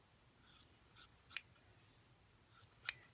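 Scissors cut through folded quilting fabric for a beginner constellation quilt, with soft quiet snips and a few crisper blade closures spread unevenly over the stretch.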